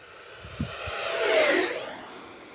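Horizon Hobby Viper 90mm RC model jet flies past, its ducted-fan whine swelling to a peak and then fading as it moves away, with a couple of faint low bumps early on.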